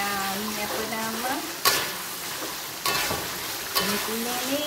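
Mee goreng noodles stir-fried in a wok, a steady sizzle with scraping spatula strikes about once a second, close and fairly loud, with a faint voice underneath.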